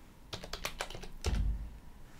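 A short run of computer keyboard keystrokes typing a command into a Minecraft server console, about eight quick clicks followed by a heavier thump, close and fairly quiet with no talking.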